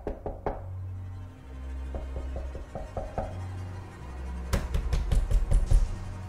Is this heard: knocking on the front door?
yes